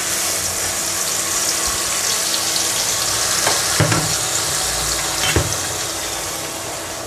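Onions, green chili and blended mustard paste fry in a pan with a steady, loud sizzle and a couple of scraping stirs, and no talk is heard.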